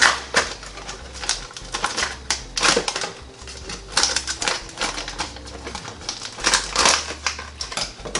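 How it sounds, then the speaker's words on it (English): A bag of frozen fried shrimp is cut open beside a Philips Air Fryer XXL, giving a run of sharp, close crinkling and snipping bursts that come and go over several seconds, with no talk. "And cut the bag here open."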